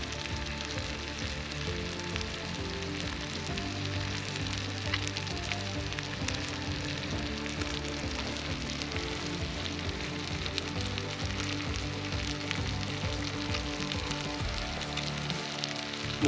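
Food frying on an outdoor cook-up in a field sizzles and crackles continuously at a moderate, even level, with no talking over it.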